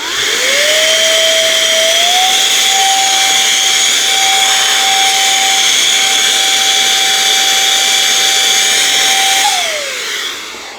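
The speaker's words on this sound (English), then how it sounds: "I'm going to use my battery-powered air blower to blow off" A battery-powered air blower blows dust off a Samsung Galaxy Tab S9 tablet, spinning up to a loud steady whining rush that holds for several seconds, then winds down at the end, close and alone.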